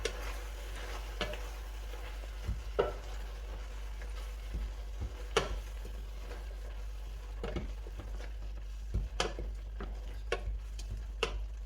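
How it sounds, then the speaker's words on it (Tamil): Mint leaves being sautéed in a pan for chutney, heard as a faint, soft sizzle under scattered ticks and taps of stirring, with a steady low hum beneath and no talking. "புதினா போட்டு வெதுக்கணும்."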